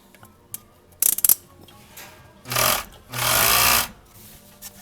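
A Juki MO-6716S serger overlock machine with its servo motor turned up runs in two quick bursts, a short one then a longer steady whir, loud and close after a few clicks of handling.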